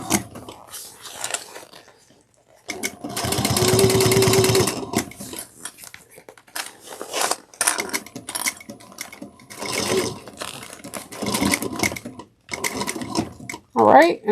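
A sewing machine stitches a clutch bag in several bursts, running longest early on, with quiet pauses between runs and a person talking during the gaps.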